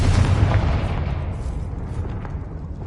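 The Confringo blasting curse from a video game detonates as a loud, deep explosion, a heavy rumbling boom that rolls on and slowly fades over a few seconds, with no talking.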